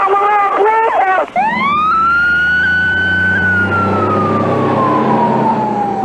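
Emergency sirens from fire, police and ambulance units responding in Fresno wail loudly and close, one tone sweeping up and then slowly falling over a steady roar of traffic and engine noise.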